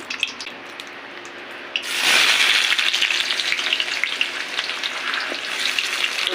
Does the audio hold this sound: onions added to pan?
yes